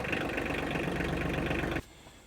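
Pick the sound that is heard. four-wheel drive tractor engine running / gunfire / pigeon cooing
four-wheel drive tractor engine running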